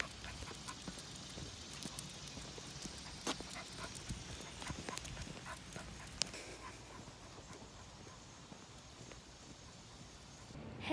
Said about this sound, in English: They're both just laying down panting